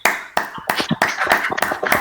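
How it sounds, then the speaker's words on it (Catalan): Scattered clapping at the close of a student programming challenge final, a small group producing uneven bursts of hand claps in rough rhythm, fairly close and dry. "Fem aquest aplaudiment a veure si es sona alguna cosa."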